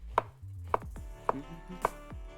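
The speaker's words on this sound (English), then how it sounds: "So slice these down very nicely." A knife slicing vegetables crossways into half rings on a board, four crisp, evenly spaced chops against a low background hum, close and fairly quiet.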